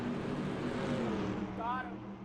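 Video game stock cars racing at Talladega in a Cup Series race give a steady engine drone with a brief rising whine near the end, under a commentator's voice.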